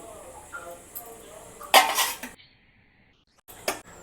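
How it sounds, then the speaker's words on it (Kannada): A metal pot clatters down onto a stovetop with a loud clank, with lighter kitchen clinks before and after, as oil is added for tempering. "ಸಾಂಬಾರಿಗೆ ಒಗ್ಗರಣೆ ಹಾಕೋಕೆ ಒಂದು ಪಾತ್ರೆ ಇಟ್ಟಿದ್ದೀನಿ"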